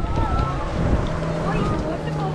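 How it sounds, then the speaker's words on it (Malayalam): Wake from a passing boat laps against a kayak on a dam reservoir, choppy splashing with gusty wind on the microphone and voices talking throughout. "ബോട്ട് പോകുമ്പോഴുള്ള തെരയാണ്"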